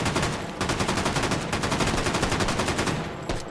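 Video game gunfire with bullets fragmenting on impact: a loud, continuous rapid-fire burst of automatic shots, evenly spaced and unbroken for a few seconds.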